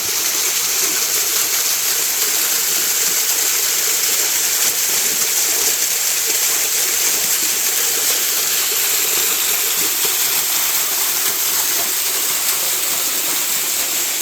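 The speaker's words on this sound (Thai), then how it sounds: "มาถึงแล้วน้ำตก" A natural forest waterfall in Kanchanaburi pours with a steady, loud, broadband rush of falling water, unbroken and close by, with no voices over it.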